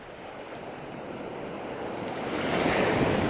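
Fairly large waves surge onto a sandy beach with rocks offshore at Bamboo Beach, Koh Lanta, Thailand, a steady loud wash of surf that swells as a wave breaks near the end, with some wind.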